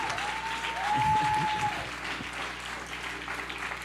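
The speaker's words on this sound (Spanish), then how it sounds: "Vamos, denle un aplauso al Señor bien fuerte allí." Loud sustained applause from a church congregation honoring the Lord during a sermon, dense steady clapping filling the room with a brief tonal hum over it.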